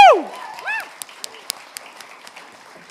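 An audience applauds honorees at a top 30 awards ceremony, light scattered claps trailing off after a short whooping voice at the start.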